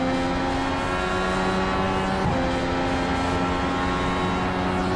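An IndyCar race car howls at full throttle in the iRacing sim at Virginia International Raceway, a loud sustained engine drone holding steady pitch with a brief dip midway.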